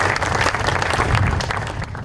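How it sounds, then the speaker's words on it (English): Warm applause from a meetup audience greeting four panelists at a data science management panel, a dense burst of clapping heard up close that fades slightly toward the end. "please join me in giving a warm round of applause to our 4 panelists"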